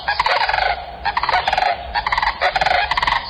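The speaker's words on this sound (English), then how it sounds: "helps it create its loud, rattling bugle call that echoes for miles across the plains" Loud, rattling bugle call of a sandhill crane, the calls repeating in several harsh, trumpeting bursts with short gaps between them and no one talking over them.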